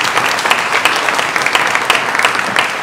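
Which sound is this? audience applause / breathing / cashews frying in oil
audience applause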